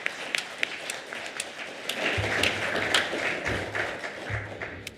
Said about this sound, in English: We like to welcome those who are with us for the first time, just with a little round of applause.